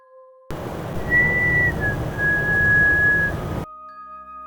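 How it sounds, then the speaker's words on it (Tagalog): A long, thin whistle used as a sound effect in a horror story set on Mount Pulag, holding one high pitch with a slight dip midway, clear over a hissing background, then abruptly cut off. "Isang mahabang sipol."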